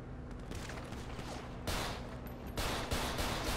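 Gunfire in a multiplayer shooter video game, faint and muffled bursts of rapid shots that get louder partway through, with no speech over them.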